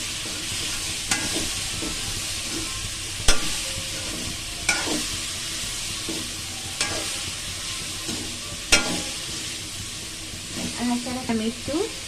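Boiled chicken is tossed into fried rice in a hot pan, a continuous sizzle broken by occasional sharp spatula strikes against the pan, with a brief murmur of voice near the end.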